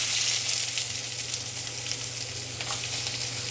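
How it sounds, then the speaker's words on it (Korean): Onions being stir-fried in a pan on an SK Magic induction cooktop, a steady close sizzle with light stirring scrapes and a faint low hum underneath, no talk. "양파를 먼저 넣고 볶아 보겠습니다"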